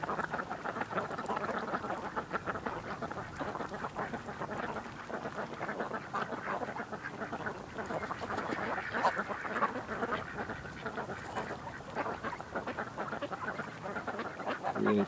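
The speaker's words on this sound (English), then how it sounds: "So many pretty ducks though." A large flock of ducks quacks continuously outdoors, many overlapping calls blending into a dense, busy chorus with some honking geese-like notes mixed in.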